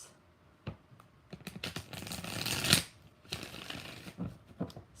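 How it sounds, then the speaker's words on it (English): Tarot cards being shuffled during an eclipse reading, a run of crisp riffling bursts and light slaps that swell into a dense flurry near the middle, then break into scattered quick card taps, close and alone. "4 shuffles"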